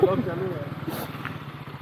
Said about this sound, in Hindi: तो अभी जा रहे हैं प्रेम का बाइक से हम लोग